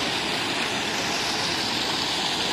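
Steady, loud rush of fast-moving floodwater, a continuous broadband roar with no pauses.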